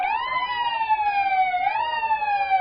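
A decorated ambulance siren at the 2021 Comox Valley Christmas parade, a loud, close, steady electronic wail that dips and rises again, sounding alone.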